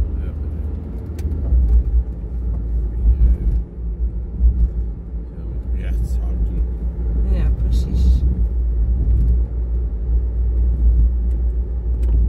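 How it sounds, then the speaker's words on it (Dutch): A hefty BMW car drives past on a road, a steady loud low rumble of engine and tyres holding through the whole stretch, with faint higher noises here and there. "Ja, een beetje dikke BMW."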